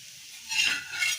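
Brinjal thalipeeth roasting crisp in a hot pan, a soft steady sizzle with a brief scrape of a spatula midway, close and quiet.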